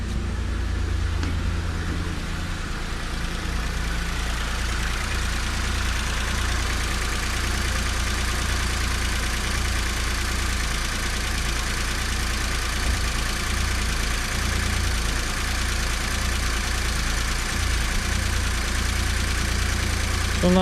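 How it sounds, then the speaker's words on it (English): A Skoda Rapid 1.2 engine idles steadily after a timing chain replacement, a constant close low hum and rumble held evenly for about twenty seconds with no talking. "start the engine again"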